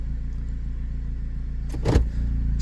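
A 2014-2017 Jeep Patriot idling with a steady low engine drone while the gear selector is shifted, and one brief clunk near the end; close and even, with no speech.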